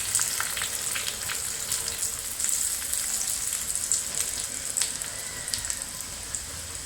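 Shallots and curry leaves sizzle and crackle steadily in hot oil reused from frying fish, a dense close frying hiss with scattered sharp pops throughout.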